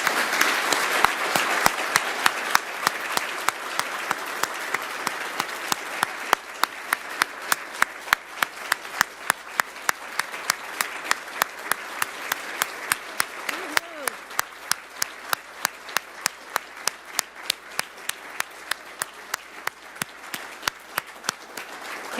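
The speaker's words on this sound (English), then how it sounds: "Can we give them one more round of applause?" Audience applause at a post-secondary education funding announcement in Edmonton, starting as dense clapping and thinning into a few scattered, sharp individual claps near the end, with some faint voices underneath.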